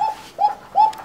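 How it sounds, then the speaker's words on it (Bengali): Three soft, evenly spaced pigeon coos come from birds at a pigeon market, each note rising and falling close to the listener against a quiet background. "দেখেন ভালো আছে দুইটা কবুতর"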